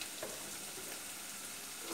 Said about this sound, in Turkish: Şimdi gelelim doğradığım ve güzelce yıkayıp suyunu süzdüğüm taze fasulyeleri ilave etmeye.